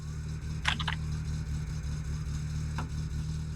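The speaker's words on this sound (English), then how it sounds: "the sound of an inline four without a muffler is actually one of my favorites" Inline-four car engine running without a muffler in the game My Summer Car, a low steady idle drone with harmonic hum and a few brief clicks and knocks over it.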